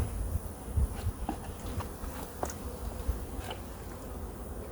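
A crowded honeybee colony buzzing inside a hive as it is opened for inspection, a continuous close hum of many wings with scattered louder passes of individual bees nearby.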